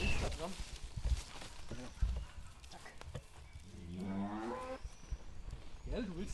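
Cattle on a small permaculture farm moo in a long, drawn-out low call near the middle, with another shorter moo toward the end, while someone talks over much of it.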